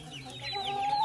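Chickens cluck and fight in a brief, close burst of overlapping clucks and squawks in a village setting.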